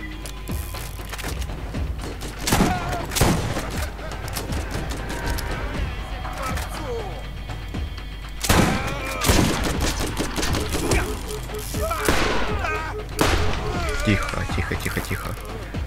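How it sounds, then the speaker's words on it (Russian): Shotgun blasts in the shooter game Borderlands, several sharp loud shots at irregular intervals among other gunfire and clatter, with someone speaking Russian between them. "сейчас дробаш заюзаю"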